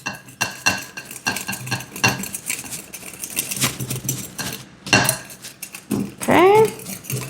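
Dry baking ingredients with sugar are mixed in a bowl in a homestead kitchen, giving a run of quick scraping and clinking stirs, close and fairly loud, without voices.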